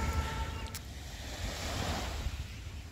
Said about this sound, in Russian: Вот я и дошла до моря.